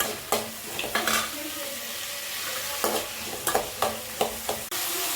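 Onion sautéing in a pan with fenugreek, mustard seeds and cumin for dried fish kulambu, a soft continuous sizzle broken by several scraping stirs of a spoon against the pan.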